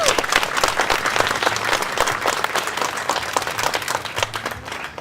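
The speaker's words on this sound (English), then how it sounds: "let's give them another round of applause" A crowd at a Relay for Life event applauds with steady, dense clapping that holds at a strong level throughout, filling the room.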